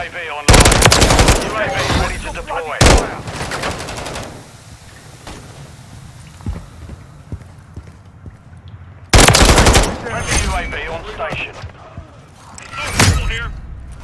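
Bursts of SVA 545 assault rifle fire in Modern Warfare 3 on the Scrapyard map, loud rapid volleys near the start, around three seconds and again near nine and thirteen seconds, with quieter game noise and voices between.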